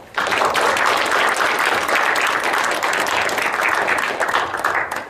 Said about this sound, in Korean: 이만수 박사님을 큰 박수로 환영해 주시기 바랍니다.